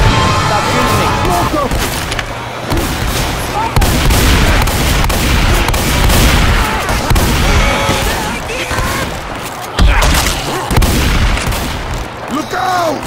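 Rapid gunfire and explosive booms fill a chaotic Left 4 Dead 2 firefight, dense bursts of shots throughout under excited players shouting over the action.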